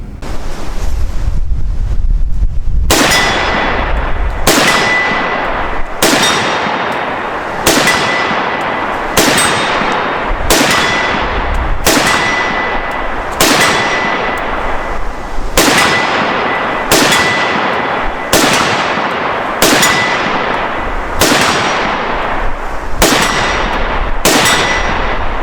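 A Mini-14 rifle with a Samson folding stock fires about fifteen loud, sharp shots at a slow, even pace outdoors, each crack leaving a short ringing tail, with wind noise in between.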